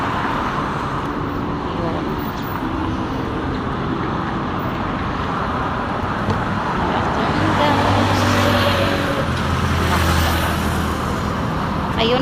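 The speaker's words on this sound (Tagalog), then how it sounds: "Marami namang sasakyan." Busy city street traffic in Kuala Lumpur near Ampang Park rolls past continuously, a dense roar of cars and buses with engine rumble swelling later as heavier vehicles pass, while a person talks over it.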